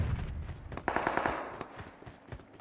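Rapid bursts of automatic gunfire from a shooting video game, with a weapon fitted with an extended quickdraw magazine, crackle close and loud in quick repeated volleys that thin out toward the end.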